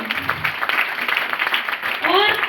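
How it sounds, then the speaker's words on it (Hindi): Applause from an audience, a dense sustained patter of many hands clapping at moderate loudness, with a bit of voice and cheering mixed in near the end. "उनके लिए पहले जोरदार ताली होनी चाहिए"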